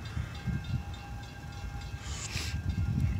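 A Baldwin switcher locomotive on the Black River & Western Railroad idles and rumbles at a distance, with a low chugging engine, a faint steady hiss and a brief burst of air midway.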